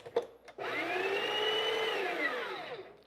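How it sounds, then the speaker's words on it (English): The built-in grinder motor of an espresso machine spins up after a couple of clicks, giving a steady, whining hum for about two seconds before it winds down. "let me turn it on. Built-in grinder. I'm just gonna turn on the motor,"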